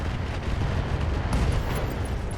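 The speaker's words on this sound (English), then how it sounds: "LRM ammo explosion." An LRM ammunition store explodes in the RogueTech mech combat game, a dense rumbling blast that fills the whole short span at steady loudness with no speech over it.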